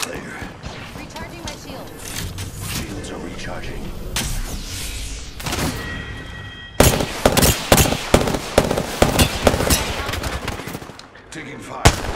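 Bursts of automatic gunfire and sharp single shots ring out in an Apex Legends match, loud and close, with rapid clusters in the second half over game sound effects and an in-game voice line.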